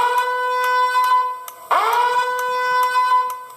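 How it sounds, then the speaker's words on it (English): A loud, steady electronic alarm tone blares in the video game Five Nights With Mac Tonight 2, pulsing in regular beats and briefly dipping in pitch partway through before resuming. "Sound the alarm."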